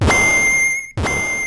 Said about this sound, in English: it's kind of like an explosion